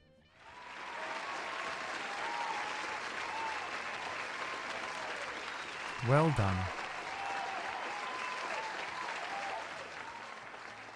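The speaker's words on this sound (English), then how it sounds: "Let's give him a round of applause." Sustained applause from a crowd fills the room, steady and loud, with a brief voice cutting in partway through.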